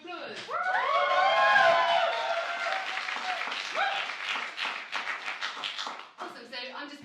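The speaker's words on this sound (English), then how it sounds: "Give yourselves a round of applause." An audience at a Spoken Word London event claps and cheers, starting with a burst of voices and whoops and then settling into steady applause that thins toward the end, with some talk mixed in.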